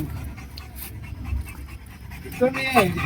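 A dog panting rapidly and close by, outdoors near a forest shrine, as people talk briefly toward the end.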